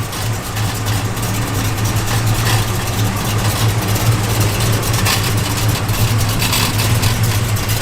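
A 1974 Plymouth Duster's engine idles steadily with a deep, even throb, close and loud, and a faint small rattle comes and goes over the rumble; nobody talks.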